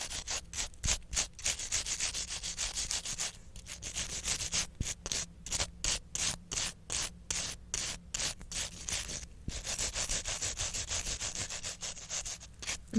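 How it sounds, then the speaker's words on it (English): A stiff brush scrubs fingernails clean of excess paint, oil, product and filing dust, making rapid, rhythmic bristly strokes close to the microphone that continue steadily throughout. "I'm just going to scrub the nails off with this brush"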